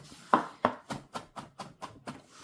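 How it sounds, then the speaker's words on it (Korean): A knife chopping carrot on a cutting board, about nine crisp, evenly spaced strikes close up, with no talk over them. "모양이 좀 균일하게 나기 위해서 이렇게 한 번씩 또 칼질을 넣어주세요."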